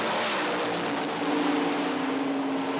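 A nitro-fuelled funny car launches down a drag strip in Sydney, a loud, broad engine roar holding steady with a rising tonal whine that swells toward the middle, heard alone without talk.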